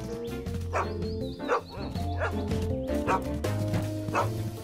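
A cartoon dog in the animated children's show Bob the Builder barks and yips repeatedly in a steady rhythm, close and clear, over background music.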